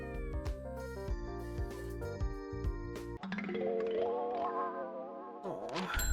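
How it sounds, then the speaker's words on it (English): A cat meows in the video game Promise Mascot Agency, a few drawn-out, rising and falling cries heard clearly over game music that plays throughout. "Oh, we found a kitty cat!"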